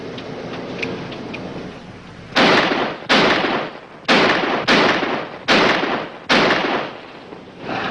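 A handgun emptied into the ground: six sharp, loud shots at roughly even intervals, each a hard crack with a short decaying tail, close by and with no talk over them.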